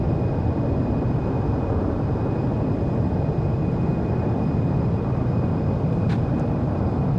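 Embraer E190 in the X-Plane 12 flight simulator during landing rollout with reverse thrust deployed: a continuous, steady broadband engine roar at constant loudness, with no talking.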